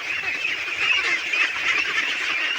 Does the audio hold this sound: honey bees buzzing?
no